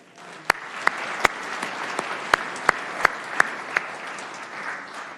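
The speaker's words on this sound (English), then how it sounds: "Let's give them all a hand of applause." Audience applause for elected officials, including a state senator and an assemblywoman, at a State of the City address: steady clapping from a crowd carrying on for several seconds, with a few sharp, louder claps standing out near the microphone.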